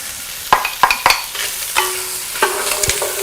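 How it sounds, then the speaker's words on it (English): Chopped onion hits hot oil in a pan, with a few sharp crackles and stirring clatters over a steady low sizzle, close and fairly loud. "And now we're gonna start sauteing the onion."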